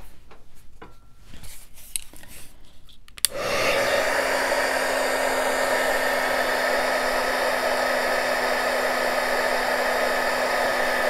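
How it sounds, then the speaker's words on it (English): A heat gun dries alcohol ink on paper, starting after a few quiet handling noises with a click, then blowing as a loud steady whooshing roar with a faint whine to the end. "I'm going to hit it with the heat gun."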